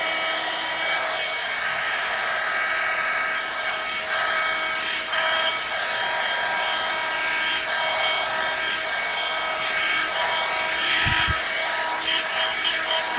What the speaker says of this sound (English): how I blow dry using the Revlon blow dryer on low heat